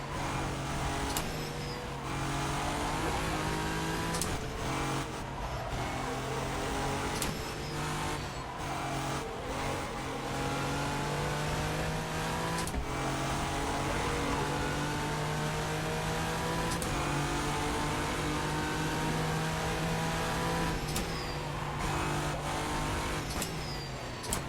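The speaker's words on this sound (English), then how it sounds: "Lots of throttle stabs going on" Simulated race car engine at Suzuka in rFactor 2, loud and close, with rising revs, gear changes and sharp repeated throttle stabs over a continuous engine drone.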